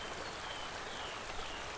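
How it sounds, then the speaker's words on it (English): Light, steady rain falls in a soft, continuous patter on a river and its wooded banks lined with hemlocks, a fine drizzle close to mist with scattered tiny drops and no voices. "The rain was still falling, lighter now, nearly a mist"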